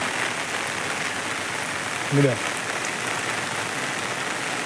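Heavy rain pours on paddy fields in a dense, even hiss, broken briefly midway by a short voice.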